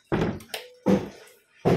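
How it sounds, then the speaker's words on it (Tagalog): A house door is pushed shut, giving three dull thuds spaced about a second apart, close and fairly loud with short silent gaps between. "sara muna natin yung pinto"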